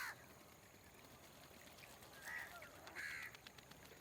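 Crows bathing on a wheat field as it is watered give two brief caws partway through, fairly faint above a steady trickle of running water.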